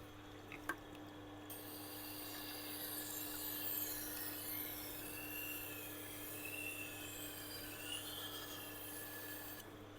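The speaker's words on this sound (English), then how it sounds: "came all the way from Wallaroo, South Australia to get his knives sharpened by me" A knife blade being sharpened by hand, a steady close rasping and rubbing that runs continuously at moderate level with no talking.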